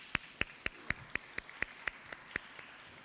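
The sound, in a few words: audience applause at a school open day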